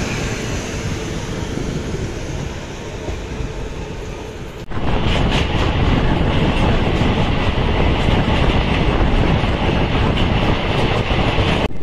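Passenger train running on rails during a long Indian rail journey, a steady rumbling roar heard from on board, jumping abruptly louder partway through with continuous rattling clickety-clack.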